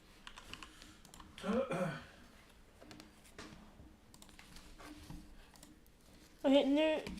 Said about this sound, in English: ditt keyboard man hör?